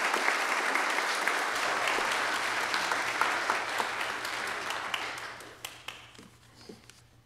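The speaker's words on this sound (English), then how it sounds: "I just want to give him a round of applause" An audience at a 45th anniversary celebration claps and applauds steadily, loud at first, then gradually thinning out and fading as scattered claps trail off.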